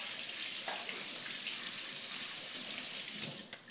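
Running tap water pours steadily as a juicer pulp strainer is rinsed under it, a continuous close splashing hiss with no talk.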